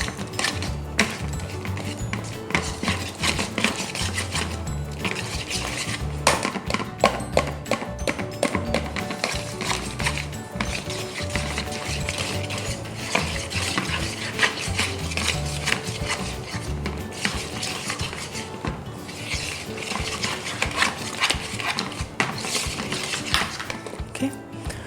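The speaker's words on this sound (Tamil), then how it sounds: "பீட்டர் இல்லைன்னா இந்த மாதிரி விஸ்கில் வச்சு பீட் பண்ணிக்கோங்க" Whisk beating chocolate cake batter in a bowl, with rapid, steady metallic tapping and scraping that runs continuously and fairly loud, close up, with a few brief pauses and no talk.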